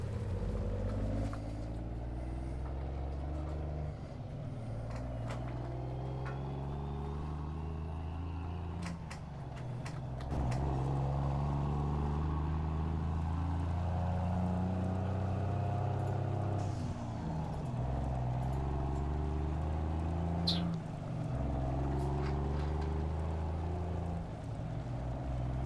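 Truck rig engine in Farming Simulator 19 drones loudly and steadily throughout, a low rumbling hum that shifts pitch slightly as it revs, with no speech.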